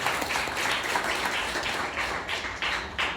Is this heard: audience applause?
yes